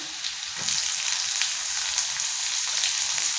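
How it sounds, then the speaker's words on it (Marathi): Garlic and green chili fry in hot oil with cumin in a pan, giving a steady, even sizzle with faint stirring, close and continuous throughout. "लसण टाकूया लसूण छान असं परतून घ्या लगेच हिरवी मिरची टाका"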